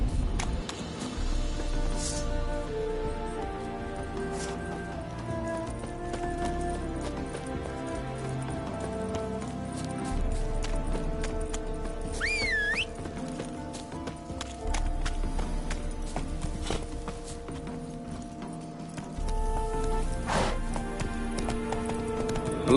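Horse hooves clip-clop steadily in The Witcher 3, a regular trotting rhythm that runs throughout over game music and ambient sound.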